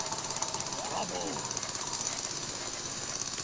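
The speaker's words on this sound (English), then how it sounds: "Get drilling. Remove these walls, please." Miners in the video game Manic Miners drill through cave walls, a steady rattling, hammering buzz that runs throughout with busy game noise layered around it.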